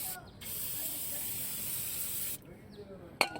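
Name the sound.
aerosol spray on Volvo 940 brake parts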